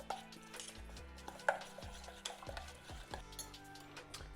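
Chimichurri made with olive oil is stirred in a jar, giving quiet, irregular scraping and clinking of a utensil against glass with soft wet mixing sounds and no talking.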